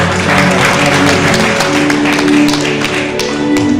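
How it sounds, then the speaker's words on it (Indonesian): An audience at a gathering applauds loudly in a crowded room, rapid claps layered over a sustained musical drone and tones, close and continuous for a few seconds. "Tepuk tangan yang meriah buat Kang Asep juga."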